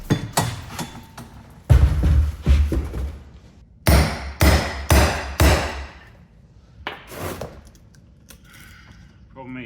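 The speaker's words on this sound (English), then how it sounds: "I am using an extremely blunt chisel for this job" A blunt chisel struck with a hammer against a rotted car part, a series of loud metallic blows in uneven clusters with pauses, some ringing, recorded up close.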